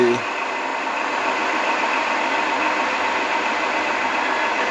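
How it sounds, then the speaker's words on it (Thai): A steady mechanical train engine hum from a railroad video game drones continuously, like a synthetic engine idling, loud and unchanging throughout. "แต่เสียงรถไฟไม่ค่อยเหมือนนะ"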